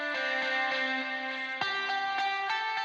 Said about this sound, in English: We have a light distortion on here. If I crank that up,